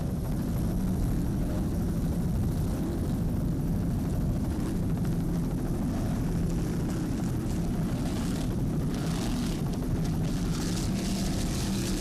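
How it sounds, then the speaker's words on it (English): Engines of a 30-foot Mercruiser-powered offshore racing Superboat roar steadily and loudly through rough water during a race, a dense continuous drone with no pause. "30-foot Superboat, Mercruiser powered, David Barath and Anthony Perry on board."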